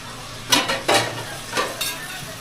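Green peas being stirred and sautéed in a pan with a spoon: a few short scraping, sizzling bursts, close and fairly loud, separated by brief pauses.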